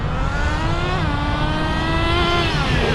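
A Smartech Magic Wheel RC truck, a T-Maxx clone with a two-speed transmission, drives at a steady speed on a road, its nitro engine giving a loud, continuous buzzing drone close by.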